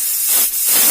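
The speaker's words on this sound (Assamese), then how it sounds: "কুকাৰৰ ঢাকনিখন বন্ধ কৰি আমি মিডিয়াম ফ্লেমত গেছটো দি 5ৰ পৰা 6টা আমি চিটি আহিবলৈ দিম" A pressure cooker holding overnight-soaked rajma kidney beans hisses steadily on a medium gas flame, a close, continuous loud steam rush with a slight dip midway.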